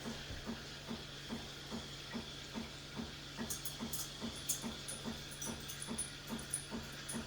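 An espresso machine's steam wand steams milk for a latte, a steady hiss with a fast, regular pulsing chatter running throughout, close and moderately loud.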